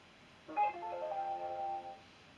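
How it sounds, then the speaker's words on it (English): A mobile phone ringtone plays a short melodic tonal phrase lasting about a second and a half, moderately faint, in a garage while a 2004 Chevrolet Blazer 4.3 is being worked on. "And there goes my phone."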